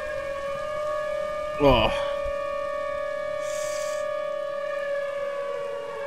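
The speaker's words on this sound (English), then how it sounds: "Our siren stopped." A tornado siren in the Minecraft video game wails as a steady, sustained multi-tone drone throughout, with a brief spoken exclamation over it early on.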